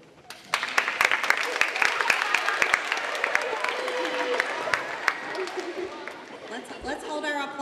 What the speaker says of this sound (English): Let's hold our applause till the very end